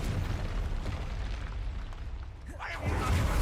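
A Bombarda spell blasts with a loud, deep explosive rumble in Hogwarts Legacy, starting with a dense boom and then rising into a second surge of crackling blast noise, with a voice calling out spell names over the combat.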